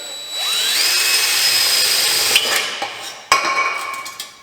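A drill with a 1/2 inch bit whines steadily as it bites through a thin tin two-stroke dirt bike exhaust, its pitch rising, followed by a few sharp clanks and scrapes.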